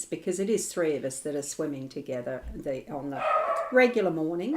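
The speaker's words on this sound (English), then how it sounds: "And you'll have to excuse the dog sounds." Dogs bark and yip indoors in a room, with short barks scattered under a person talking steadily close by.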